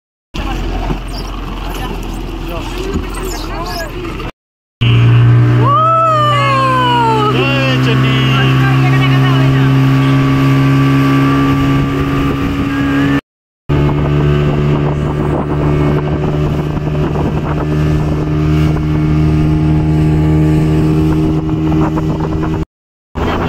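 A motorboat engine drones loud and steady at close range with strong wind buffeting, broken by a couple of brief cutouts, while a voice briefly speaks over it.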